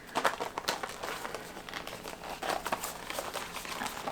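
Plastic packaging around art supplies from a Japanese art store crinkles and crackles as it is pulled open, in a busy, continuous run of close rustling bursts with no pause.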